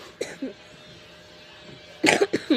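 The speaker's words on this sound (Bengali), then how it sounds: "একটু ঠান্ডা লাগছে তো তাই কাশি চলে আসলো" A person with a cold lets out a few harsh close coughs, one near the start and a cluster of rapid coughs toward the end.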